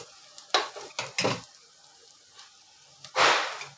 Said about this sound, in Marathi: आता मी त्यात टाकते थोडंसं जिरं, राई